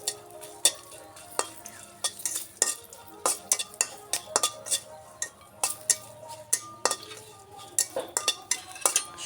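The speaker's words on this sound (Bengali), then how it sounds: "শুকনো লঙ্কাটা একটু ভেজে নেব।" Dried red chillies frying in oil in a pan, with a spoon stirring and clinking against the metal in an irregular rhythm over a soft continuous sizzle, close and moderately loud.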